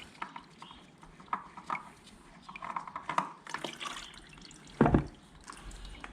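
Engine oil drains from a 2015-2016 Kawasaki Vulcan 650 motorcycle into a pan, heard as scattered drips and liquid splashes up close with a brief louder splash near the end.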